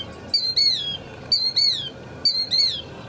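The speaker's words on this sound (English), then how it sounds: "By the way, killdeer sound like this." A killdeer gives three sharp, shrill calls, each a quick two-note kill-dee phrase spaced about a second apart. The calls are close and clear over faint background noise.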